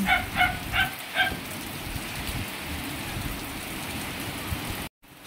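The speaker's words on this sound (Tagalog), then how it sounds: "Basang-basa kami ng ulan." Heavy rain pours steadily beside a house, a constant close hiss that fills the whole stretch, while a dog barks several times near the start.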